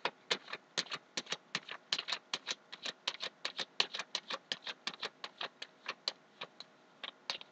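Tarot cards shuffled close up, a rapid run of crisp, evenly spaced riffling clicks lasting several seconds with no voices.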